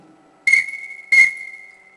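Two sharp blasts on a small survival-kit whistle, each a piercing high tone starting with a breathy burst and trailing off into a steady ring, loud and close with a short gap between them.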